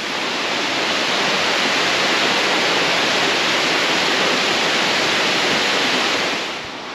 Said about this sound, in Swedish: Ja, nu är vi ovanpå det här vattenfallet jag var nere på nyss.